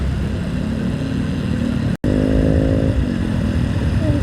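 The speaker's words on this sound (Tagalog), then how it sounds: "pag narinig mong ganyan yung mga tambucho, mga scooter" A scooter's exhaust drones steadily and close by in traffic, with a brief cut near two seconds before the engine note rises slightly in a rev.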